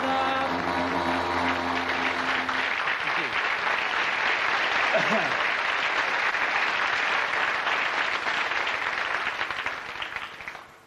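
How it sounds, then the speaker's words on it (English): A studio audience gives sustained applause as a standing ovation at a 1982 comedy show, dense and steady clapping throughout that fades slightly near the end, with no talking over it. "Standing ovation."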